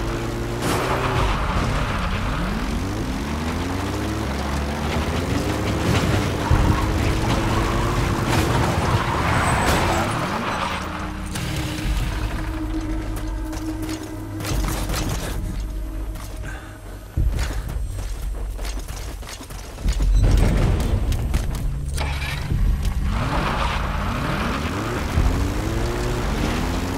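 A support helicopter arrives for extraction in the video game Metal Gear Solid V: The Phantom Pain, its rotor and engine drone rising and shifting over the long stretch, mixed with footsteps and other game sounds.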